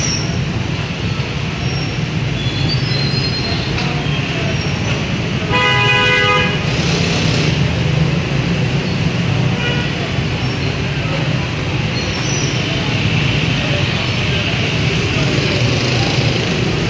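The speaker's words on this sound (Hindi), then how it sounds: "ये मेट्रो बस गुजरी है" A large metro bus rumbles past amid loud, steady street noise at Bhatti Chowk in Lahore, with a brief horn blast partway through and distant honking.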